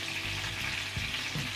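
Chicken legs sizzle and crackle steadily in vegetable oil over medium heat, a dense continuous frying sound up close with faint stirring.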